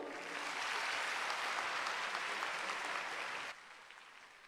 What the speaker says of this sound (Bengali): একটু করতালি হোক।